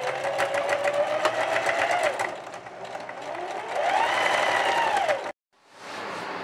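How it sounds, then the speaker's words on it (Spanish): A sewing machine stitches the seam of a girl's dress with a steady, close, fast mechanical whir that runs unbroken for about five seconds, then stops abruptly and leaves quiet room tone. "luego de realizar la costura, vamos a doblar hacia adentro y realizamos la costura también de este lado"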